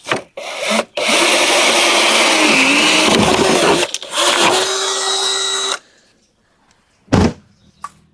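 A power drill whirs loudly for several seconds as it bores small holes through plastic, pausing briefly between bursts, then a short final buzz after silence.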